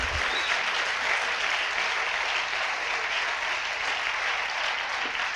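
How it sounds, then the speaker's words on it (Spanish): Sustained applause from a church congregation during a sermon, a dense, steady wash of clapping that holds at an even level throughout. "¿Cuánto le pueden dar un aplauso al Señor?"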